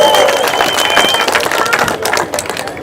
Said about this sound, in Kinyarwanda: Nikomera amashyi mu abantu b'igitangaza.